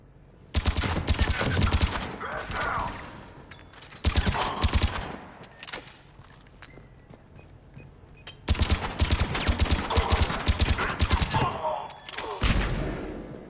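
Sustained automatic gunfire in Mass Effect 3 on Omega, dense rapid bursts of rifle fire in several long volleys with brief pauses between, loud and close, with a little speech in the gaps.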